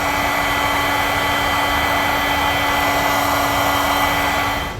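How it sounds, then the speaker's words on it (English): Heat gun shrinking heat-shrink tubing on a Tekonsha T-One trailer wiring harness for a 2022 Acura MDX, a loud steady blowing roar with a constant motor whine, close and unbroken throughout, no talking. "from there we'll take our heat gun and cinch this up"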